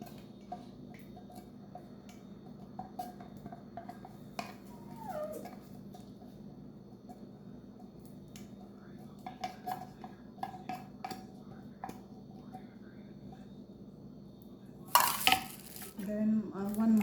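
A fruit salad is mixed in a bowl. A spoon gives faint, irregular clinks and ticks over a low steady hum, with a louder burst of scraping and clattering near the end and faint voices in the background.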